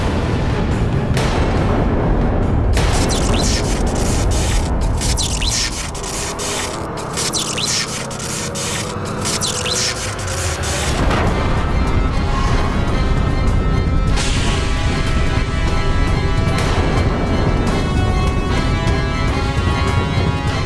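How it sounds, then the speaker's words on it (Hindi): A mace strikes in battle as a mythological TV series effect, with dense crashing booms and heavy roaring impacts that run loud and continuous for about twenty seconds, with no talking. "ये तो दशानंद की गदा की ध्वनि थी स्वामी।"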